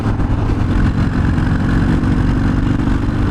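A 2020 Harley-Davidson FXDR 114 motorcycle accelerates in sixth gear, its big V-twin engine giving a deep, continuous, throbbing rumble at steady loudness, recorded close to the rider with no talking.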